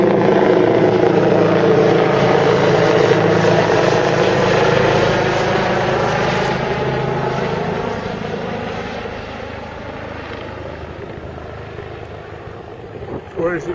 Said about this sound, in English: It's coming in for landing.